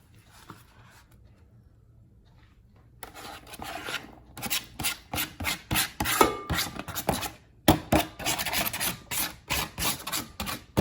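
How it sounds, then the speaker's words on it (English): Tuna pasta egg salad being stirred and smushed in a bowl, a close run of rhythmic scraping and squelching strokes that starts after a quiet pause and keeps a steady, rapid beat. "Away we go with the stirring and the mixing and the smushing"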